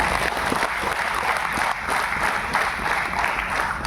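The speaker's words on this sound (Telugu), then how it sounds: "పాండు సార్కి బీబీ మేడంకి ఎంఎస్ఆర్ అసోసియేషన్ అందరికీ బిగ్ క్లాప్స్ ఇవ్వండి" An audience claps at a Vestige business gathering, with dense, sustained applause that fills the whole moment at close, loud level and no talk over it.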